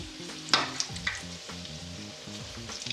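Spicy potato dumplings (aloo bonda) fry in hot oil, a soft, continuous bubbling sizzle with a few louder pops and splashes near the start.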